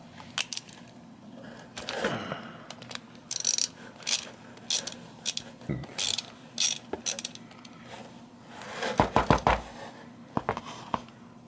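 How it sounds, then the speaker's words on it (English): A 12mm lock nut is worked off a mountain bike pedal with a ratcheting tool, giving repeated close metallic clicks in short bursts, with a rapid flurry near the end. "So go ahead and remove this little lock nut here."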